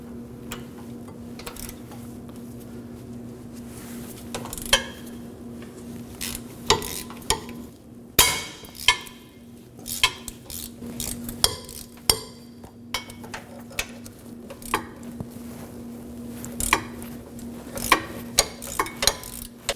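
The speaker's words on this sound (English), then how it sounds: "we're going to be removing these 4 bolts that hold it in place using a 17mm socket" Socket wrench with a 17mm socket breaking loose the four rear hub assembly bolts on a 2014-2020 Acura MDX, giving irregular metallic ratchet clicks and clinks over a steady low hum, with no talking.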